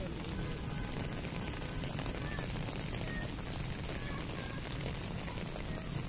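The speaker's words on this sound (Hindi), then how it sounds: "ये देखो ये जोरदार बारिश चल रही है।" Heavy monsoon rain pouring down outdoors, a dense, even roar of water with no breaks from start to finish.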